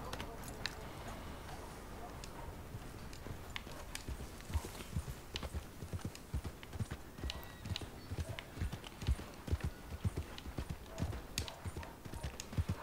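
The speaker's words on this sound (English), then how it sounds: "Chamando o cavalo." Horse hooves clip-clopping at a walking pace in Red Dead Redemption 2, a steady rhythm of faint hoofbeats that grows more pronounced later on, with quiet game ambience beneath.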